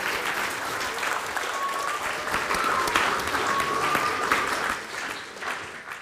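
A lecture audience applauds a volunteer coming up, dense steady clapping from a roomful of people that stays even for several seconds before thinning out toward the end, with no speech over it.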